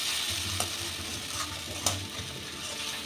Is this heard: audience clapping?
no